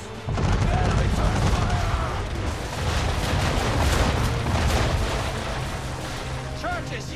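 Ship cannons in Assassin's Creed 3 keep booming in a naval battle at sea, heavy rumbling broadsides blending into a dense, continuous roar of fire with crew voices shouting faintly within.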